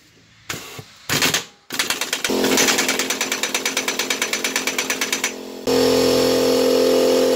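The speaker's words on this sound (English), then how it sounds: "we finally got it off using that impact wrench" An air impact wrench hammers at a rear suspension bolt on a 2004 Nissan Armada, a few short bursts followed by a loud, close, rapid rattling run, then a steady pneumatic whir as it frees.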